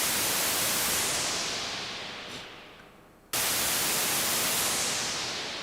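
Loud steady hiss of white noise from a Moog Grandmother analog synthesizer's noise generator, fading gradually, cutting out briefly, then returning at full level and slowly dimming again.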